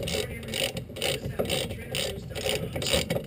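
Ratchet wrench loosening a 13 millimeter bolt during a rear brake overhaul on a Type 1 VW Bug, a close run of rapid clicking pawl strokes in short repeated bursts.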